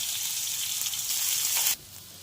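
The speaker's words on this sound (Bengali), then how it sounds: "এখন পেঁয়াজগুলোকে ভাজবো।" Onions fry in hot oil in a wok with a bright, steady sizzle and crackle that cuts off abruptly near the end, leaving a quieter hiss.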